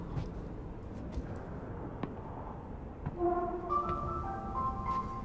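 A phone ringing inside the sci-fi horror game Alien: Isolation, set in a Seegson Communications facility: a faint warbling tonal ring rises out of a low rumbling ambient hum partway through and repeats.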